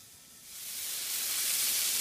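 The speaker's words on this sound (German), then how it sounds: "Und hier eigene Callaway Bratwürste aus dem Grill" Bratwurst sausages sizzle on a grill, a broad steady hiss that swells over the first second and then holds loud and close, with no voices.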